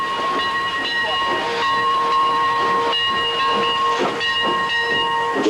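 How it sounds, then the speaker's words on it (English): An old-fashioned steam engine hisses steadily with a sustained whistle-like tone, overlaid by rhythmic chuffing bursts as it travels through woods, fairly close and loud throughout. "we'll ride on a real old-fashioned steam engine as it chugs its way through the woods."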